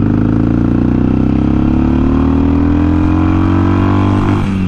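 Harley-Davidson Sportster engine while riding north on the Pacific Coast Highway, a loud, close, continuous low rumble with slowly rising pitch as the bike pulls along, no talking over it.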